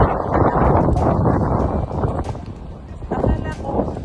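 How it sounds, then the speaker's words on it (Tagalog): Wind gusting across the shore of a bay in New Brunswick, Canada, at low tide: a steady, loud rumbling buffet against the microphone throughout, with no voices. "Yung mahangin."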